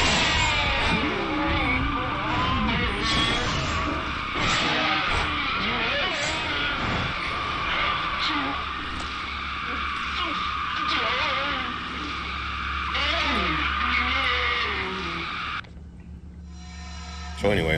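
Car tires screech and skid in the horror game Fatal Frame: Maiden of Black Water, with long wavering squeals over engine rumble and game sound, and a person talking on top of them throughout.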